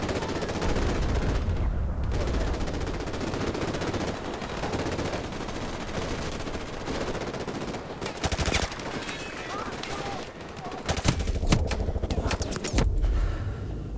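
Sustained automatic gunfire and rifle shots in Call of Duty: Modern Warfare combat, a continuous dense barrage with louder sharp cracks toward the end.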